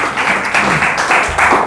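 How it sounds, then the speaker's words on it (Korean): A church congregation at a Sunday service claps for its volunteers in a dense, continuous round of applause that rises and falls slightly across the brief moment. "우리 귀한 섬김으로 봉사하시는 분들께 감사의 박수를 드리겠습니다"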